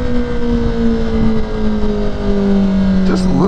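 A Kawasaki Ninja ZX-10R KRT Edition sport bike with a quick shifter pulls hard, its loud, steady engine drone under wind rush sagging slightly before climbing again near the end.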